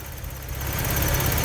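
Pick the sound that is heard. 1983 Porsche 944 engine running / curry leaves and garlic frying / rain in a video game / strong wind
1983 Porsche 944 engine running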